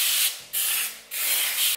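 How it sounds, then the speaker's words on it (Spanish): Release spray goes onto the baking paper lining a 20 cm cake pan for a white chocolate sponge cake, producing three close, loud hissing bursts separated by brief pauses. "ahora le voy a rociar spray desmoldeante"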